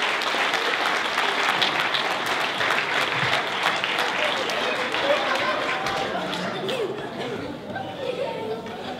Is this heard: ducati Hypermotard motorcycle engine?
no